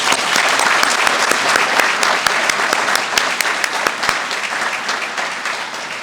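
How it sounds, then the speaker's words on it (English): An audience at a life science and medicine lecture gives a sustained round of applause, dense clapping filling the room steadily for several seconds with a few sharper individual claps standing out. "Let us give her a round of applause."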